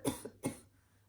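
Two short, sharp coughs from one person, close and clear, the first with a brief catch after it, then quiet.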